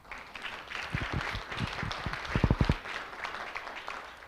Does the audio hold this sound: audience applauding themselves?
yes